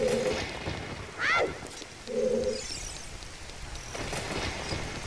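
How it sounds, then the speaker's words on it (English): In The Legend of Zelda: Ocarina of Time, rain falls indoors as a soft, steady hiss beneath the game's sounds, with short electronic tones and a sweeping chime cutting through in the first few seconds. "It's raining inside."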